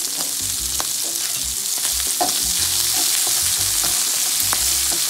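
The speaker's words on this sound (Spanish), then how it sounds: "Vamos a sofreírla unos 2 minutos." Chopped onion fries with longaniza sausage in hot oil, giving a loud, dense, continuous sizzle and crackle, with faint stirring clinks and low pan rumbles underneath, close up.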